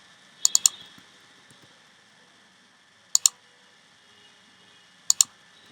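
Text is typed on a computer keyboard in short sparse bursts, a quick cluster of three keystrokes, then pairs of crisp clicks a couple of seconds apart, close and clear against near silence.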